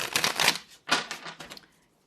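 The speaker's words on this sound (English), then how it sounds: "So let's shuffle the cards" Tarot cards being shuffled by hand, two bursts of crisp riffling and slapping, close and fairly quiet, fading out at the end.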